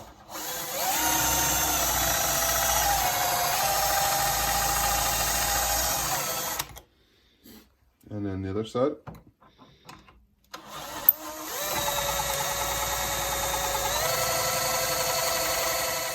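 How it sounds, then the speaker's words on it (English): A power drill whines loudly and steadily boring pocket holes through a clamped pocket jig for a wooden potting bench, pauses briefly for a short spoken remark and a few clunks, then whirs again at full speed. "we're going to use this little pocket jig that we've clamped down"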